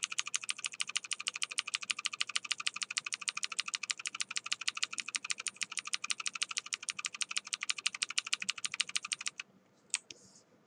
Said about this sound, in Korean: 키보드 G를 눌러서 다음 프레임 확인을 해 볼게요